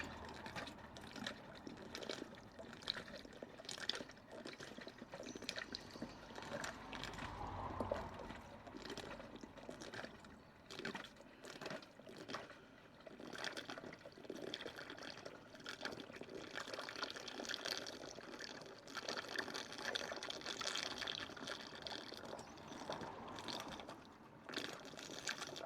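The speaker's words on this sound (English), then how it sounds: "See the water going in." Water pours and trickles steadily into the reservoir of a VegTrug self-watering kit, a continuous bubbling fill heard close up with no talk.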